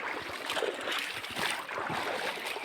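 Steady broadband rushing of water flowing over stones, continuous and fairly close, with no voices.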